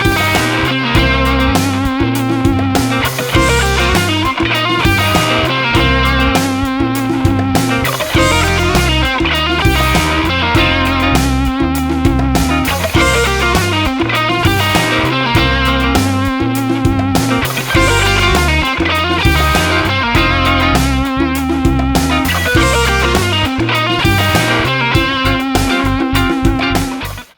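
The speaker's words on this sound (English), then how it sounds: "I want to show you a cool little blues exercise that you can play over a funky style blues" Electric guitar with effects and some distortion plays a funky blues exercise lick, with repeated phrases, choppy rhythmic figures and quick runs, loud and continuous without talking.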